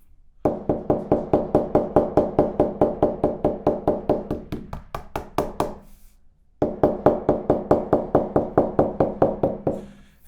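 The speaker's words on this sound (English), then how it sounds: "on all of these seams, you can choose to tap down the stitches." Rapid, evenly spaced taps of a quarter-pound mallet flattening stitched leather seams, close and crisp, a long steady run followed by a brief pause and a second run.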